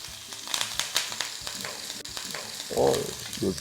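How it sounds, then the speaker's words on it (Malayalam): Hot oil sizzles steadily while small seeds crackle and pop, with brief stirring scrapes and a louder burst of spluttering near the end. "ഇനി ഇതിലേക്ക് നമുക്ക് കടുക് പൊട്ടിക്കാം പൊട്ടി തുടങ്ങി"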